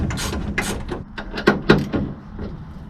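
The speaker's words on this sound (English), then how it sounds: "It's a 10mm bolt on top. Go ahead and tighten it down," Wrench tightening a 10mm bolt on a tonneau cover clamp in a pickup bed utility track, a series of short metallic ratcheting clicks and taps, close and uneven in rhythm.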